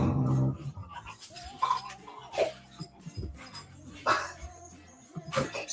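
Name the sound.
dogs playing and barking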